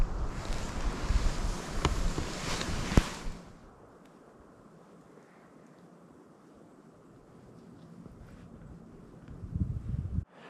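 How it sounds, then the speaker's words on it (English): Strong wind blowing hard outdoors at dusk during a hunt in Alabama, a loud roaring gust buffeting the microphone for the first few seconds, then easing to a steady low rush with another gust building near the end. "the wind's blowing pretty hard"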